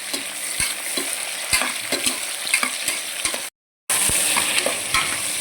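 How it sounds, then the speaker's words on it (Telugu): Onions and mixed vegetables fry with a steady high hiss in a pan while a utensil stirs them in repeated scraping knocks, close and continuous, with a brief silent gap near the end. "అన్నీ మంచిగా ఫ్రై చేసేసుకోవాలి"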